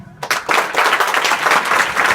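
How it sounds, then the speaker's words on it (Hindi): Students at an inter school clap for a boy, a sudden burst of dense, close applause that starts abruptly and holds steady to the end. "ये लड़के के लिए ताली बजाओ।"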